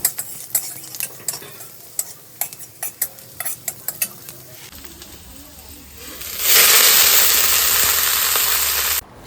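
Garlic and green chili frying in oil, first a run of rapid scraping stirs and utensil taps in a quiet pan, then a loud, dense sizzle that swells up and holds steady close by.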